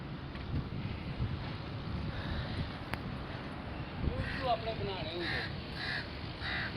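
A crow on a rooftop caws several times in quick succession near the end, fairly clear over steady wind noise buffeting the microphone, with a voice talking underneath.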